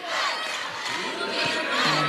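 A packed women's college basketball arena crowd roars and cheers loudly and continuously near the end of a close UConn game against Seton Hall, with shouts rising over the din.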